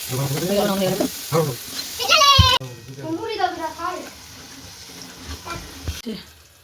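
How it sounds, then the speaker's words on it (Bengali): Potatoes frying in a pan, a soft steady sizzle running underneath a person talking close by, the voice carrying over the frying throughout. "দেখতেই পাচ্ছেন এখন আলুটা ভাজানো হচ্ছে, ওটাও ভাজানো হচ্ছে"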